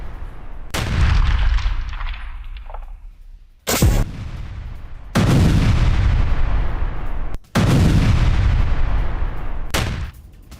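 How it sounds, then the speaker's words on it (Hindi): Repeated rocket launcher strikes and explosions in wartime footage from the Russia-Ukraine war around Kharkiv, with four loud, heavy booming blasts, each trailing off into long rumbling decay, with sharp gaps between them and no speech. "रॉकेट लॉन्चर से विनाशक हमला किया गया"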